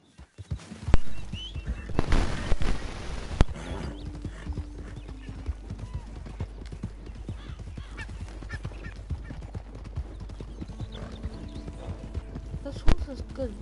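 Steady clip-clop of horse hooves at a trot, continuous and fairly close, mixed with game sounds and a distant honk.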